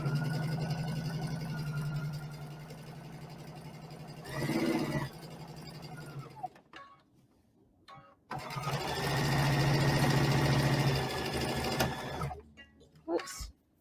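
A sewing machine stitches slowly around curves on a patchy mini Christmas stocking with a shortened stitch length, running in steady buzzing bursts separated by pauses, near and loud, with a voice talking briefly between runs.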